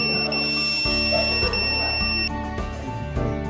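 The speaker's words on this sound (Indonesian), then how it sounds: "maka buzzer akan berbunyi dan LED hijau akan menyala" A steady electronic buzzer tone from a microcontroller-based automatic elevator system sounds continuously, with a faint beep layered over it and intermittent clicks and hum underneath.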